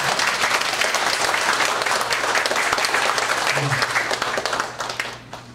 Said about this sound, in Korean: 뜨거운 격려 박수 한번 보내주십시오